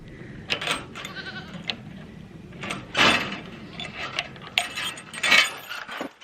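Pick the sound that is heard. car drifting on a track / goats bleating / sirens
goats bleating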